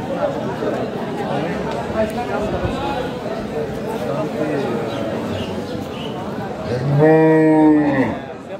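Cattle at a busy Eid sacrificial livestock market in Jamalpur bazaar, Baliakandi, Rajbari. Crowd chatter and talk fill the background, and one loud, near moo rises toward the end.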